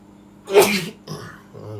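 A single sharp human sneeze bursts out loud and close, followed by a softer breathy catch and a short trailing vocal sound, with no other noise around it.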